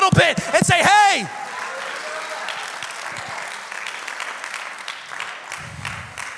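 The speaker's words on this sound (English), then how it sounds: "take 5 seconds on a Sunday just to clap a little bit" A church congregation claps during a Sunday sermon, a steady soft patter of many hands that carries on after a brief burst of loud speech at the start.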